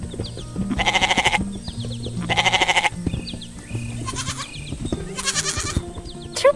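A white goat bleats repeatedly near a farm pen, loud wavering calls in several bursts over soft background music.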